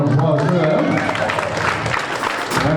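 Sustained applause and clapping from an audience at a high school jazz band concert at a fish fry, greeting the alto saxophone players; dense, steady clapping with crowd noise, loud and continuous throughout.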